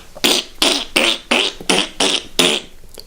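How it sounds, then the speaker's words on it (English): A seal breaks wind repeatedly as it undulates across the ice, giving seven loud, evenly spaced raspy bursts, close and with no other sound between them. "the seal was farting whilst it undulated"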